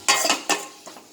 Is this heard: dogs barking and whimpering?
no